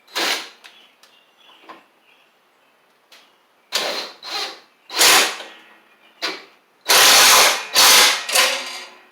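Ratchet wrench turning a 10 mm bolt on a John Deere S100 riding mower, heard as close, loud bursts of rapid clicking in short separate strokes with quiet gaps between them.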